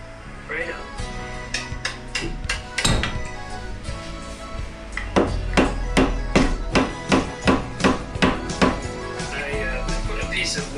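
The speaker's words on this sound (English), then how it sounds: "Using a plastic hammer so I don't damage anything." A plastic hammer taps on the cast-iron headstock of a Logan 210 lathe during disassembly, a run of sharp knocks that settle into a steady, evenly spaced series of blows, close and loud.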